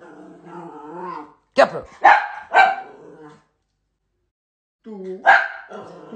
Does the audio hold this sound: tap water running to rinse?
no